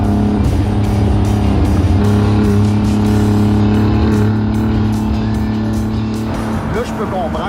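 A Porsche 914 drives hard with a steady, loud engine drone and some tire noise, while someone talks continuously over it from inside the car.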